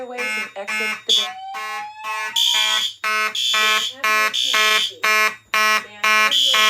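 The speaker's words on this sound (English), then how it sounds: "There has been a fire alarm reported in the building." A Notifier NFS2-640 fire alarm system in a building sounds a loud, close pulsing electronic horn, repeating in regular bursts alongside a recorded evacuation voice announcement.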